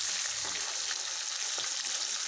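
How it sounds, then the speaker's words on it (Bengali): Rohu fish pieces frying crisp in hot oil in a pan, a steady, dense sizzle with faint crackles throughout, close and continuous. "মাছগুলো একদম কড়া করে ভেজে দেবো"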